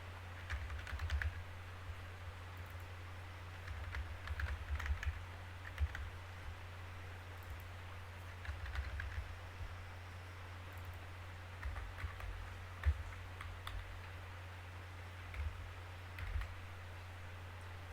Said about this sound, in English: Then I type the data manually.